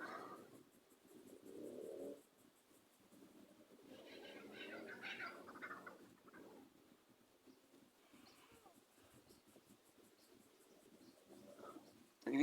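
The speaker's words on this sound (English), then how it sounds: "When you're quiet, you can hear the birds." Soft bird coos drift in from a distance amid quiet outdoor ambience, with faint murmuring underneath and low rustles.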